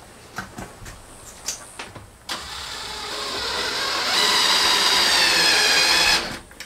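A power driver sets screws into studs during a mobile home rebuild: a few light knocks first, then one steady, rising motor whir held for several seconds before cutting off.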